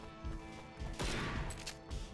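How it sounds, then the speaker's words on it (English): Enemies fire guns in the post-apocalyptic video game Bunker Punks, a quick burst of faint, rapid shots under a low game soundscape. "Oh, they're shooting at us."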